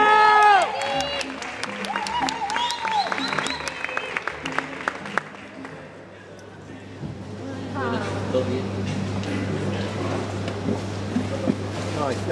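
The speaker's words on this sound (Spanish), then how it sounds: "Un aplauso para Matías." At the Argentina World Latin Dance Cup, an audience cheers and applauds for a dancer. The applause bursts out loudly at the start and then fades while an announcer speaks over music.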